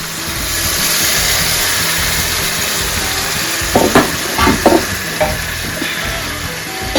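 Dried fish and taro tamarind curry bubbles in a pot with a constant hissing simmer, broken near the end by a short cluster of clattering ladle knocks against the pot.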